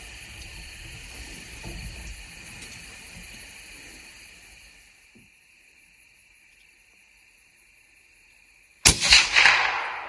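Single sharp rifle shot during a deer hunt, loud and close, cracking out abruptly after a long quiet stretch of faint outdoor ambience with insects, then ringing briefly.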